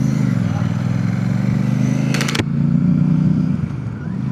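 Motorcycle ride along a road on a trip from Puri to Ganga Sagar, a loud, steady engine drone and road rumble with wind noise, under talk throughout and a brief clatter near the middle.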